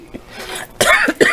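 A person gives a short, sharp cough, a couple of close, dry bursts in quick succession within a quiet room.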